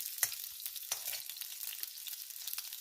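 Green chillies frying in a little oil in a pan on the stove, a soft steady sizzle and crackle with a few sharper pops, close and alone without any talking.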